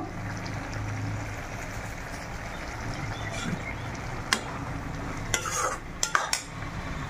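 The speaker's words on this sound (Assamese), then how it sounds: "বুট ভজা হৈ গ'ল, এইটো বুট ভজা হৈ গৈছে" Chickpeas roast in a pan on a home stove with a soft, continuous sizzle and stirring, broken near the end by a few sharp clinks of a utensil against the pan.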